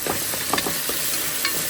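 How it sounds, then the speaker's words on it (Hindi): Tadka tempering sizzling in a pan as a spoon stirs it, a close, bright frying hiss broken by quick scraping and clinking stir strokes, with no talking. "तो तड़का मैंने रखा था"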